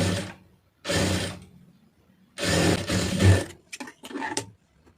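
A sewing machine stitches a blouse neck in several loud bursts of rapid whirring, separated by pauses and a few short final runs.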